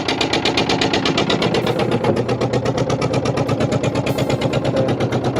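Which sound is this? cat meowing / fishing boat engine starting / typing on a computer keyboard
fishing boat engine starting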